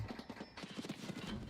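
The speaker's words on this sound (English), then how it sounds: "I'm hearing footsteps everywhere, but nobody's there." Rapid footsteps in the Escape From Tarkov video game, a quick, uneven patter of steps close by, fairly faint and continuous with no talking.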